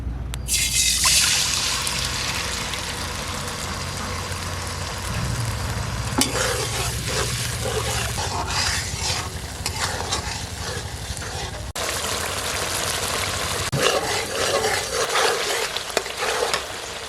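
Spices frying in white oil in a pot as they are stirred for hilsa pulao, giving a continuous close sizzle with wet scraping and bubbling throughout.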